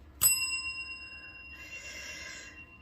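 A single bell is struck once, a bright ding that rings on with a sustained, fading tone, followed by a second softer shimmer of ringing, heard alone and fairly quiet.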